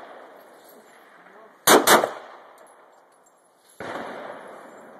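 A gunshot rings out at an outdoor shooting range, one sharp loud report with a metallic echo, set against quiet background noise and a faint voice.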